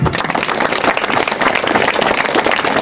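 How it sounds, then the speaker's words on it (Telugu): Children applaud their teachers at a school gathering addressed by the Khammam district collector, giving a dense, steady stretch of close hand clapping with no pauses throughout. "For your teachers clap your hands."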